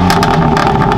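A BMW F8X M3/M4 with the S55 engine and an Active Autowerke exhaust and intake revs loudly and close by, a brief, raspy, continuous engine roar with pulsing exhaust bursts.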